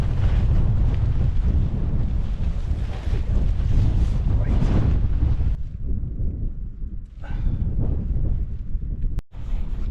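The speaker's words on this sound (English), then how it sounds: "In this wind, it's gusting only about 20 now." Strong gusting wind of Storm Ciarán buffets the microphone at a wild camp in loud roaring surges, easing briefly before blowing hard again.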